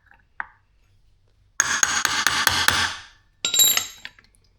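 Light metal hammer taps seat a part on a BMW K75RT motorcycle: one lone tap, then a quick burst of about seven sharp taps with scraping, and a final shorter cluster, close and crisp.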